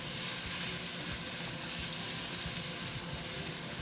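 Beef and vegetables fry in a large 16-liter wok, giving a steady close sizzle with soft stirring scrapes and no voices.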